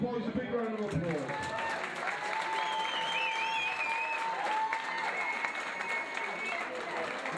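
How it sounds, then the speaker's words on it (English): Crowd applause for two young boxers after their bout, steady clapping from a nearby audience under ringing tonal sounds and voices, lasting throughout at a fairly even level. "Let's give both these boys a big round of applause."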